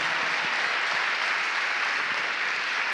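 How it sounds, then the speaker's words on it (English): An audience applauds continuously, a dense, steady wash of clapping that holds at an even level throughout. "That deserves a hand clap all by itself."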